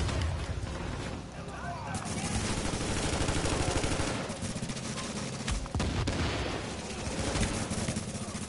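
Dense, continuous gunfire rattles through a shooter video game, rapid overlapping bursts and volleys with sharp spikes, all under steady talking voices.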